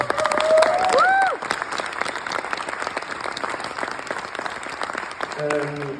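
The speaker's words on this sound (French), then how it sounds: "On peut les applaudir s'il vous plaît." An audience at a museum event applauds steadily for several seconds, dense clapping with some cheering, while voices speak over it at the start and end.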